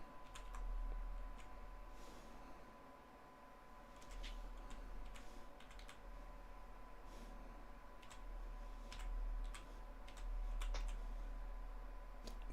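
Someone types on a computer keyboard in scattered, irregular clicks with short pauses between bursts, fairly faint over a low steady hum, with no voices.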